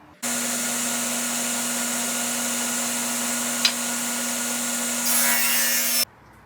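Power saw cutting a groove along wood stock for a garage cabinet frame, a steady loud whine running about six seconds without pause, pitch shifting briefly near the end before stopping abruptly.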